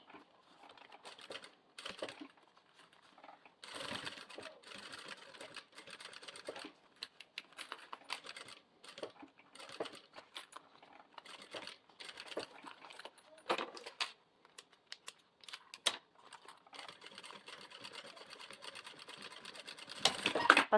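Sewing machine stitching a zipper into a fabric toiletry bag, a quiet run of rapid mechanical clatter in bursts with brief pauses, a short backstitch near the end, close and fairly faint.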